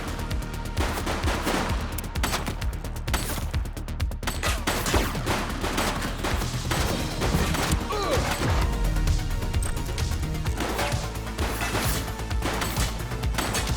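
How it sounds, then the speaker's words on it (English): Video game gunfire in The Precinct crackles in dense, rapid bursts of shots and impacts, loud and continuous throughout, with faint voices mixed in. "Shots fired! Suspect down."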